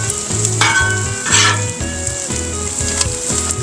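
Bacon sizzles loudly and steadily on a flat-top griddle, with dense crackling and occasional bursts of spattering fat, close up and without voices.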